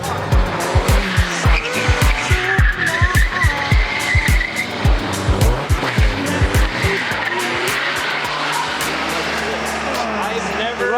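A 1.6L Mazda Miata is driven hard while drifting, its engine revving in rapid repeated pulls under loud, sustained tire squeal and skidding, heard close from inside the car while people talk.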